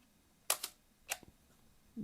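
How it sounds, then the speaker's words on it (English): A vintage Balda Baldalux 6x9 medium format folding camera fires its quiet shutter, giving two soft, close mechanical clicks about half a second apart with a faint tick trailing the second. "A beautifully quiet shutter on it,"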